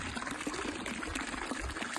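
Gravity-fed water runs steadily into a farm tank or trough through a line with its valve partly closed, making a continuous close pouring and trickling rush with no pauses.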